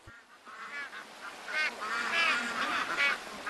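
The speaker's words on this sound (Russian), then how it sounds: "водно-болотные птицы – одна из самых представительных групп, обитающих на заболоченных землях" Wetland waterbirds give a run of nasal, goose-like honks that repeat and overlap at fairly close range for several seconds, with no talking.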